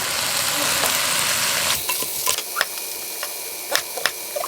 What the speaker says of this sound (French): je vais remettre ma viande avec le jus